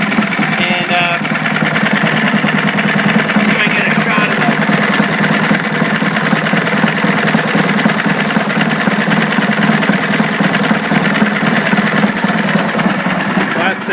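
An old English stationary engine from the mid-1940s, firing on every stroke rather than hit and miss, runs close by with a steady, rapid, even chugging throughout, and a voice can be heard talking over it.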